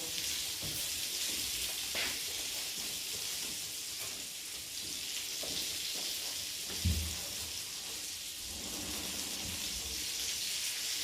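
Mushrooms fry in a pan, with butter added, in a culinary school kitchen, giving a soft, continuous sizzle with a few faint clinks and bumps at close range, and no speech.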